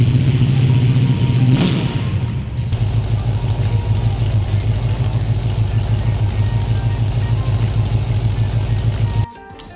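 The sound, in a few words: 1970 Pontiac Firebird engine running until fuel runs out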